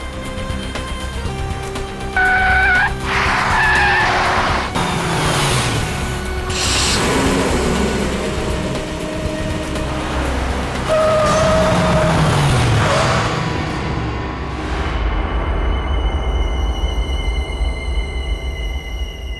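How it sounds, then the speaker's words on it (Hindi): Car engine straining as the vehicle turns around sharply, with tyre squeals and mechanical whines rising and falling over a steady low rumble, loud and close, mixed with dramatic background music tones. "ड्राइवर, गाड़ी घुमाओ।"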